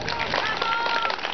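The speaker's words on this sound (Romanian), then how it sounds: "Felicitări, să-i aplaudăm." Applause from an audience for students at a school award ceremony, a brief steady patter of clapping with a voice speaking over it.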